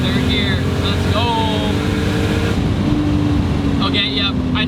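A Toyota Supra MK3 turbo engine pulling hard in third gear, a loud continuous drone with rising pitch heard from inside the car, with a shift partway through and a whistling whine near the end.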